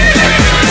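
A horse at a stud farm on a green meadow gives a brief, loud whinny over dense music.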